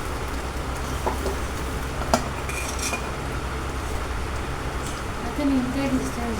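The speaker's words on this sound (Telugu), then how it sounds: "వెల్లుల్లి పేస్ట్ ఇలా వేసుకొని స్పూన్ వేసుకొని ఇలా ఫ్రై చేసుకోవాలి" Potato pieces fry with ginger-garlic paste in a pan as a spoon stirs them, giving a steady low sizzle broken by a few sharp metal clinks of spoon against pan and a brief scraping stir near the end.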